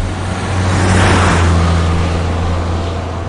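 A truck in the horror game Yomawari: Night Alone roars past with a loud, steady engine drone that swells as it comes closest and then eases off, with no talking.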